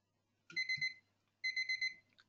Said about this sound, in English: Hey, that's my alarm.